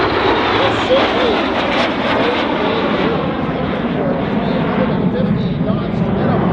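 A CT-133 Silver Star jet performs a demo at the Abbotsford International Airshow, a loud continuous roaring rush that swells and drifts as it passes, with a broad engine wash throughout.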